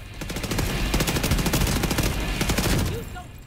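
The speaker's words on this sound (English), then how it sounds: "Let's see if we can suppress her with the turret." An automated turret in The Division 2 rattles off sustained rapid bursts of gunfire, loud and close, continuing for several seconds before tapering off near the end.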